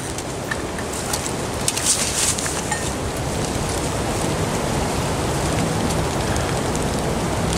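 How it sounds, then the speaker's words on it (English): Rain starting to fall outdoors under a tree, a steady broadband patter of drops on surfaces at moderate level, with a few sharper nearby hits early on and no talking. "it's starting to rain"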